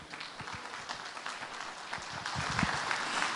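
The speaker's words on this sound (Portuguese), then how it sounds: "vamos aplaudir Apocalipse capítulo 12" Scattered applause from a church congregation, with individual claps standing out against a thinner wash of hand-clapping that swells slightly toward the end.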